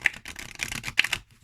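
A deck of oracle cards is riffle shuffled, giving a quick close burst of crisp fluttering card clicks that ends abruptly.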